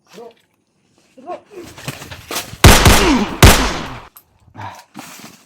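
Gunfire in a video game: two loud, sharp bursts of shots ring out close together and dominate the middle of the clip. Quieter game sounds and voices are heard before and after.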